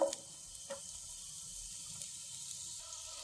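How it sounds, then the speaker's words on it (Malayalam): Sliced onion frying in hot oil in a pan, a soft, steady sizzle with faint crackles, heard close but quiet and alone. "എണ്ണ ചൂടായി അതിലേക്ക് നമുക്ക് ഈ ഉള്ളി ഓരോന്നും വെച്ച് കൊടുക്കാം"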